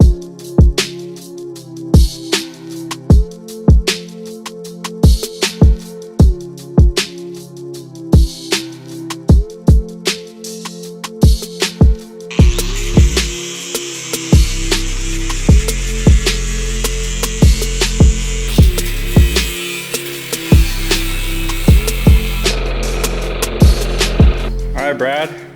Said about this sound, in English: cut them with the chop saw, drill them with the hand drill